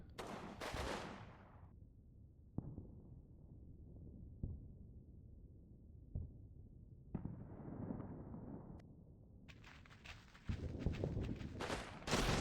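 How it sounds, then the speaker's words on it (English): Bursts of machine gun fire ring out across a riverbank battlefield near a mortar team, sharp cracks and short volleys repeating at mid distance amid rumbling background noise, with louder clustered shots toward the end. "Mortar team do take a few shots from an MG there"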